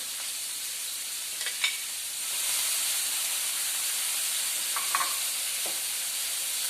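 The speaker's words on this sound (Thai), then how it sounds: "บล็อกโครี่นี่เราลวกแล้วนะคะ เราลวกแล้ว เราถึงเอามาผัด" Blanched broccoli and shrimp stir-fried in a hot pan, with a steady close sizzling hiss and a few light scraping stirs, and no voices.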